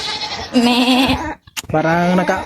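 Goat at an aquamarine park bleating loudly up close, two long wavering calls split by a brief pause with a sharp click.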